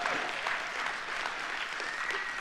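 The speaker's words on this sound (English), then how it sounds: "It's all right to clap your hands as long as it's not a golf clap." A church congregation claps hands in a dense, continuous round of applause that holds at an even level throughout.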